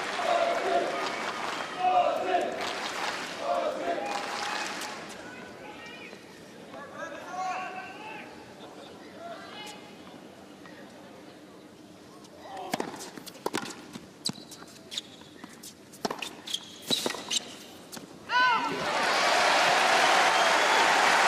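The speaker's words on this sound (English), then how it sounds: "a bit of cheering for a ball that lands wide" Spectators at a 2012 Australian Open third-round tennis match between Dolgopolov and Tomic cheer and applaud in two bursts at the start and end, with loose clapping and crowd murmur in between and a commentator talking.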